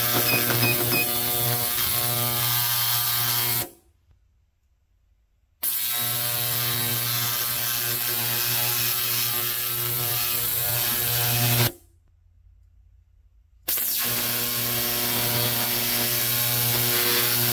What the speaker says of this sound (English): maybe another 10 minutes on the degassing feature, which from what little I understand is supposed to really be an even more aggressive ultrasonic clean